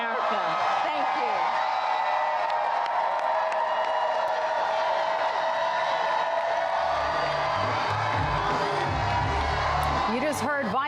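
A huge outdoor rally crowd of tens of thousands at the Ellipse in Washington, DC, cheering, whooping and applauding in a steady sustained roar that fills the whole stretch.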